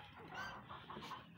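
Rooster in a backyard clucking in a short run of low, close calls, fairly faint and steady, with a little background noise.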